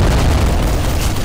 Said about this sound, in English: And then we're gonna blow this stuff up.